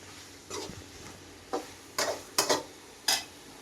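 Cauliflower coated in turmeric is stirred in a pan, giving a few separate scraping strokes and light clinks over a soft, low sizzle.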